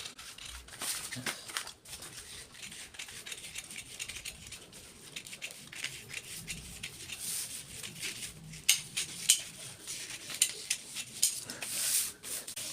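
Scissors cut chudidar top fabric close by in a series of uneven crisp snips and rustles, with louder clustered cuts toward the end and no talking.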